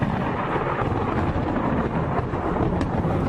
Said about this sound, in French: Cette tempête n'est pas comme les autres.